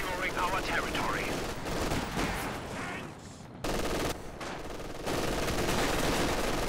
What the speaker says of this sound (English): Machine gun doesn't get the suppression in before they make it into heavy cover.